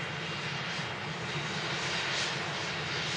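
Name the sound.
aircraft taxiing out to runway at Manchester Airport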